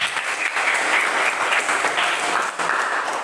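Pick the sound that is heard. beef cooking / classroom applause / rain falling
classroom applause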